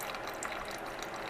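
Water drains steadily from cooked tomato pulp for homemade pasta sauce, a continuous close trickling and splashing hiss with no talking.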